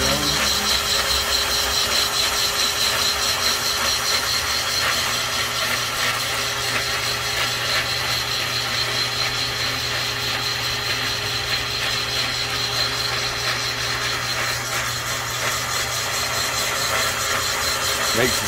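A boring machine cuts out the cylinders of a 327 engine block from a 1965 Impala, giving a continuous, loud mechanical whir and grind with a steady hum for the whole stretch.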